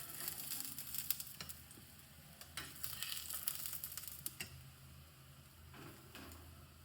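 Gujarati wheat-flour thepla sizzles in oil on a griddle, a soft steady crackle close by with occasional light ticks and scrapes, no voices.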